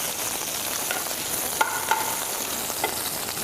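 Onions, celery and garlic sauté in oil in a pan, a steady close sizzle with a few soft stirring scrapes and clicks throughout.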